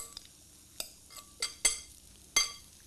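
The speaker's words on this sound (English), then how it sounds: "Give it a good stir together," Beetroot salsa being stirred with a brinjal pickle marinade, a handful of sharp spoon clinks and scrapes against a bowl, close and sparse, with no voices.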